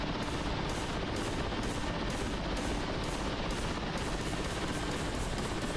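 A rear gunner fires a machine gun from an aircraft in the flight sim DCS World: a loud, unbroken stream of rapid automatic fire that rattles densely for the full stretch without pause.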